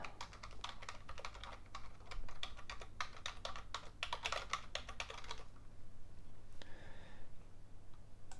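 Quick bursts of keystrokes clatter on a computer keyboard as a host name is typed during a Proxmox setup on a mini PC, close and crisp, then stopping into quiet room hum.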